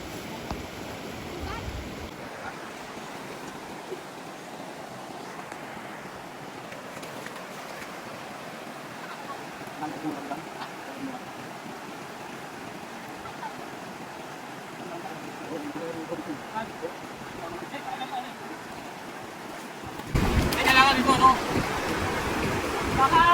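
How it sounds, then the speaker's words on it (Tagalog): Strong rushing river water roars steadily and broadband close by, a continuous hiss that swells louder near the end, with people talking over it. "Maharagas ang tubig dun sa may unahan."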